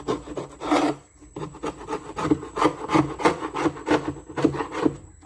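Propolis is scraped off the underside of a wooden beehive box with a tool, a run of short rasping strokes in uneven rhythm, close and clear, with someone speaking briefly over it.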